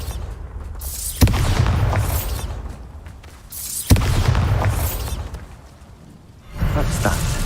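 Bombarda blasting-spell explosions from Hogwarts Legacy on PC: three loud booming blasts, each with a sharp onset and a rumbling tail, spaced a few seconds apart, with no talking.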